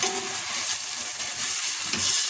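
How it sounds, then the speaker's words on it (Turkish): Bulgur pilaf with tomato sauce, onion, pepper and garlic simmers in a pot, a close, constant bubbling hiss and sizzle that stays steady throughout with no voices. "malzemelerini koyduktan sonra şöyle kaynamaya bırakıyoruz"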